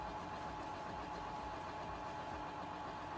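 A tractor engine in the Farming Simulator game, with a sprayer attached, hums at a faint, steady idle-like drone with a low rumble and a constant mid-pitched tone, without any clear rise in revs.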